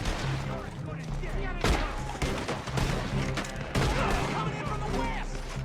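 Rapid bursts of gunfire in a shooter video game, loud sharp cracks and clatter in quick succession with impact thuds, with a voice speaking intermittently over them.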